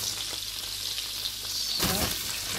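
Apples dropping into melted butter in a pan set off a loud, close sizzle that jumps sharply in intensity partway through, with steady frying hiss throughout and no talk.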